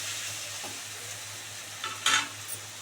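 Spice paste sizzles and fries steadily in a pan for a curry of fresh loitta (Bombay duck) fish, with a few scraping stirs and a brighter crackling burst near the end.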